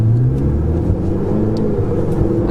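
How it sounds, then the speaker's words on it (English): A Ferrari 488 GTB engine rumbles low and steady from inside the cabin during a downshift, a continuous deep drone with slight surges, fairly loud and with no talking. "Oh, there's a downshift."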